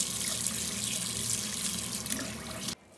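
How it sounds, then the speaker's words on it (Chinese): Soaked preserved mustard greens rinsed under a running kitchen tap give a steady, close rush of water splashing into a sink, ending abruptly as the flow stops. "泡好的梅干菜洗一遍"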